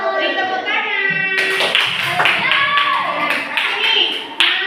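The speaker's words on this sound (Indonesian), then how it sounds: "Beri tepuk tangan." Children in a classroom clap their hands in a quick burst of applause, starting after a teacher's voice and continuing as a close, steady patter, with talking over the clapping.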